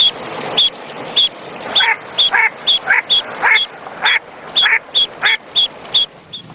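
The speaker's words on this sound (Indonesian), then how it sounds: "Muncullah bebek angsa." Repeated duck quacks, a dozen or so short calls in an uneven rhythm, loud and close with no other sounds, from a duck in a children's animal cleaning cartoon.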